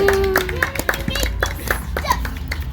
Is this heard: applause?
yes